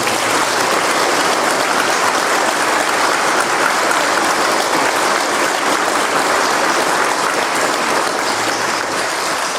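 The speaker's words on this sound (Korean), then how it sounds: "이 모든 분들에게도 박수 한번 부탁드립니다." Loud, sustained congregational applause, dense and even throughout, thanking parish volunteers during an Easter Vigil Mass at a Catholic church.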